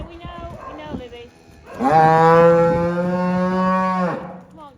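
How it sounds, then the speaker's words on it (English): Cow named Libby gives one long, loud, close moo that holds steady for about two seconds before tailing off, after quieter farmyard sounds. "This is my cow. Libby, she's the noisiest cow ever."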